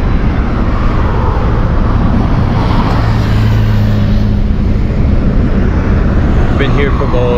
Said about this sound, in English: We're stuck in a traffic jam now